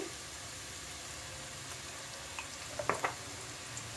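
Potato, capsicum and green chilli sauté in a pan for a dry curry, a steady soft sizzle that continues throughout, with a few small pops and stirring clicks near the end and no talk.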